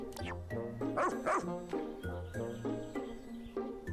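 Moss, the dog from the video game Pikmin 4, barks and yips in short bursts over steady harmonic game music, the barks close and fairly loud.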